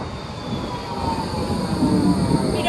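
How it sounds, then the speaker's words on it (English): An Australian tram runs along its tracks, a steady rumble of wheels on rails with faint squeal, close and continuous, with no talking. "This is tram, Australia's most widely used public transport."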